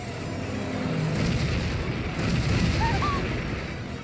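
Heavy booming cannon fire from the video game Bravely Default rumbles continuously, a dense low roar of blasts with a faint whistling tone near the end.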